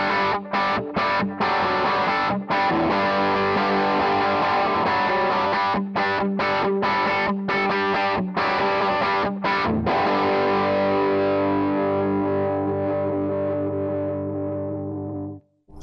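A Marshall Theatre Haze 40 watt combo amp played with overdrive at about two-thirds gain, distorted guitar chords ringing loud with a held, swelling sustain edging toward feedback before fading out.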